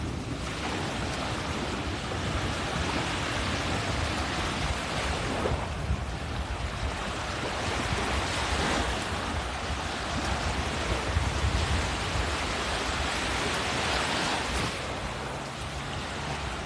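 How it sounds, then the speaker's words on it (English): Wind gusts roar steadily across a beach in North Naples, Florida, mixed with broadband surf wash, loud and continuous throughout with swells of stronger gusts. "Oh, this wind is killing me."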